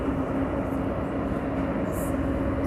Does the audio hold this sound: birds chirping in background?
no